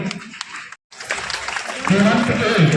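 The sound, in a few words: audience applause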